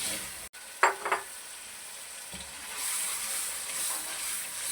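Boiled chickpeas tipped into a pan of frying chicken for a chickpea, bottle gourd and chicken curry, a brief clatter and splash followed by a steady close sizzle and hiss of hot oil, with no voices.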